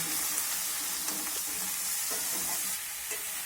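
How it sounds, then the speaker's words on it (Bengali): Snake gourd stir-frying with turmeric powder in a pan, a constant bright sizzle broken by repeated scraping stirs of a spatula, close and moderately loud. "এই হলুদের গুঁড়োটা দিয়ে আমি চিচিঙ্গাটাকে খুব ভালো করে নেড়ে চেড়ে ভেজে নেব।"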